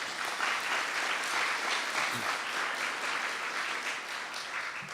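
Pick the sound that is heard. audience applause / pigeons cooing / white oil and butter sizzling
audience applause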